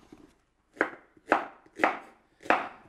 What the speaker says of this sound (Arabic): قطعوا البصل برك هكذا ديش حبيبات بصل